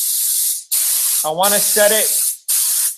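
Air spray gun hissing in three long bursts as the trigger is pulled and released during spray gun pressure setup, loud and close, with someone briefly speaking between bursts.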